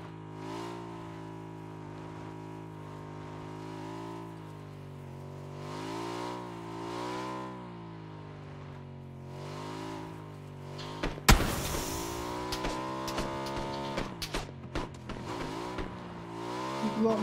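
A damaged, smoking motorbike in PUBG revs repeatedly, its engine pitch climbing and falling in smooth sweeps, then a sudden loud crash and clattering noise cuts in partway through.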